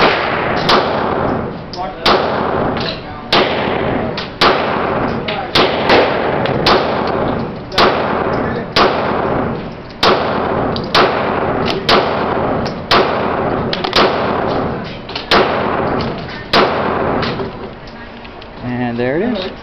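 A Glock 19 Gen 6 pistol firing magazines at targets, with sharp, loud, evenly spaced shots in a long string of about twenty, each ringing briefly, and a voice near the end.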